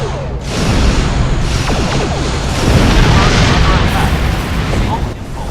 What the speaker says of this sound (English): Were you too close to the explosion there?